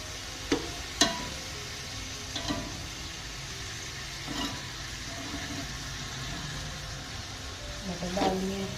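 Peas stir-frying in a pan for Chinese-style fried rice, with a quiet sizzle broken by several sharp clatters of a spatula against the pan and a louder scrape near the end.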